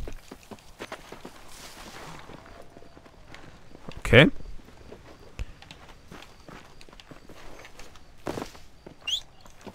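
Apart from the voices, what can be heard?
horse hooves in Red Dead Redemption video game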